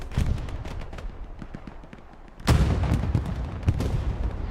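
A repair station blows up during a Hell Let Loose match on the Foy map, a sudden loud boom bursting through a steady backdrop of distant gunfire and artillery, with another sharp blast shortly after.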